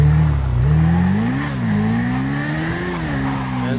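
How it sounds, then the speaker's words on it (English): The Dinka Akuma motorcycle from the video game GTA V rides along winding roads. Its engine whines steadily with rising and falling revs, loud and continuous, with no talking. "here's the Dinka Akuma. Probably my overall favorite motorcycle."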